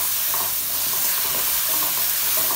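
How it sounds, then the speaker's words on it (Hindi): Garlic, ginger and green chili paste with onions frying in a pan, giving a steady, loud, close sizzle and hiss with light stirring scrapes and no talk. "अब हम मसाले को अच्छी तरीके से भून लेंगे।"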